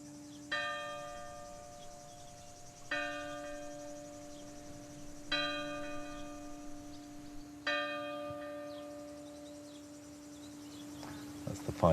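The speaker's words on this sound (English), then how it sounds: "oh, it's nice to hear a bell" Church bell in a French village ringing four spaced strokes, each ringing out and decaying, heard at a moderate distance over a steady insect drone in a quiet countryside setting.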